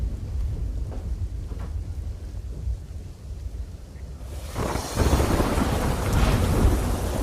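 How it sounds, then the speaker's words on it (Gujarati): Heavy monsoon downpour in Valsad's Dharampur hums as a steady rain wash with low thunder rumbling underneath. Partway through, the rain swells suddenly into a louder, denser roar that continues to the end. "વલસાડના ધરમપુરમાં ધોધમાર વરસાદ ખાબક્યો."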